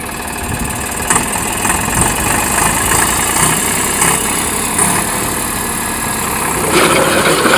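Tractor engine idling nearby, a steady, loud, knocking diesel chug with a continuous low rumble and occasional rattles, no voices over it.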